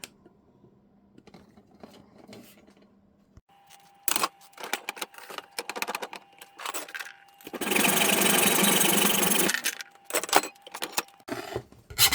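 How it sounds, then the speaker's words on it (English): A 5mm threaded rod is cut to length while building a snowblower chassis, with scattered metallic clicks and scrapes, then a loud steady burst of sawing for about two seconds, followed by more clatter. "So I will now cut a 5mm threaded rod, and I will cut it at 29 centimeters long."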